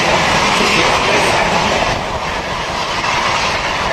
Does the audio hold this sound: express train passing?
yes